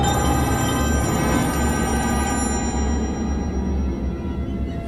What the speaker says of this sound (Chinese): 一阵奇怪的电话铃声传入他的耳中